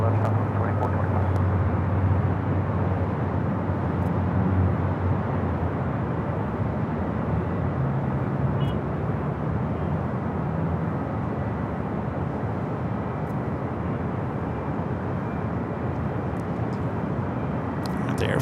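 Airliner taxiing at Los Angeles LAX airport, a steady broad engine roar that holds level throughout with a constant low hum, continuous and fairly close.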